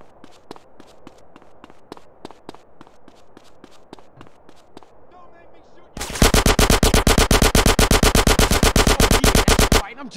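Rapid automatic gunfire in GTA San Andreas: scattered single shots at first, then a loud, dense sustained burst of machine-gun fire for about four seconds.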